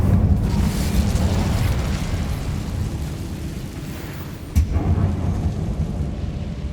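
Incendio fire spell cast in Hogwarts Legacy, a loud rumbling roar of flame with a deep, sustained whoosh and a brief sharp burst near the end.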